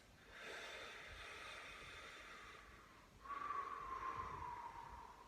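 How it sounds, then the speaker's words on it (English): During a yoga stretch, two long, slow breaths hiss softly and close by, the second a little louder, with no talk over them. "let's take a couple deep breaths"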